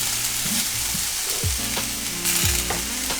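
Vegetables for a Mexican-style bowl sauté in a hot pan, giving a steady close sizzle with low tonal hums and occasional swooping clatters as they are stirred.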